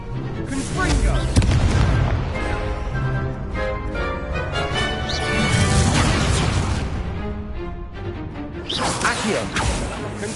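Confringo spell explosions in the video game Hogwarts Legacy, a busy battle of repeated deep booms and whooshing blasts, loud and continuous under spoken voices.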